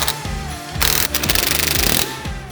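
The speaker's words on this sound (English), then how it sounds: "Okay, let's bolt this thing in." A pneumatic impact wrench rattles in bursts while bolting a part into a Porsche Macan Turbo, loud hammering close up with brief pauses between runs.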